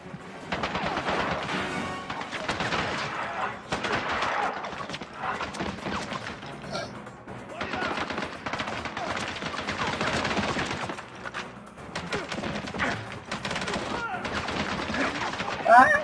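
Enemy gunfire in the video game Blood Stone 007, with sustained bursts of automatic fire and scattered shots rattling almost continuously, loud and dense, mixed with game combat noise.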